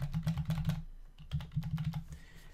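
Rapid typing on a computer keyboard while entering test credit card payment details at checkout, a close run of crisp key clicks in two bursts separated by a short pause, with no talking.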